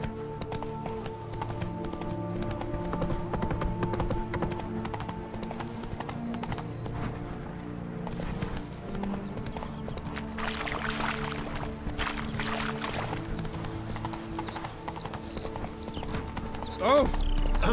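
Horse hooves clip-clop at a steady gallop in the video game The Witcher 3, a continuous rhythmic beat over background music and ambience, with a brief whinny-like sound near the end.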